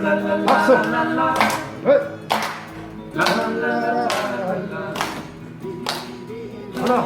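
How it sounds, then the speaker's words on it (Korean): Hand clapping during a group exercise routine: about eight sharp, evenly spaced claps in a steady rhythm, close and loud, with voices between them. "박수"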